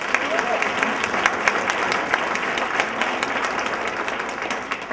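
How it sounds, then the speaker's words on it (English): Sustained applause from a crowd, with dense, steady clapping filling the space and no break. "a very healthy round of applause"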